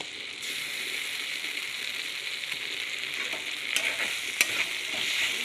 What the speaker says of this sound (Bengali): মশলাটাকে কষিয়ে দিচ্ছি এবার দিয়ে দিচ্ছি আদা বাটা